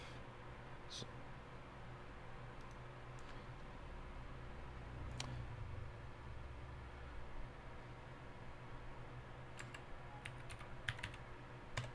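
Computer keyboard keys are tapped to enter a file name, sparse quiet clicks in a few short bursts over a low steady background hum.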